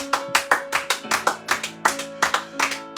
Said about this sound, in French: Quelqu'un peut acclamer très fort.